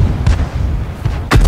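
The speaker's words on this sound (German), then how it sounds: "Und die BT-7 Artillery mit einem Schuss zerstört." Tank gun firing in World of Tanks, a couple of heavy booming shots with a short gap between them, loud and close, against a low rumbling battle background.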